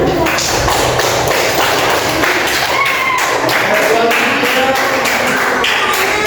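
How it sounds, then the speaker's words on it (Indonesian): A classroom of primary-school pupils claps for group 1, a dense, steady patter of many hands that runs throughout at close range. "tepuk tangan untuk kelompok 1"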